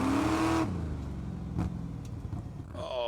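A car engine revs loudly in the Lego Batman: Legacy of the Dark Knight video game, a rising tonal whine that drops into a steady rumbling drone with a brief burst near the middle.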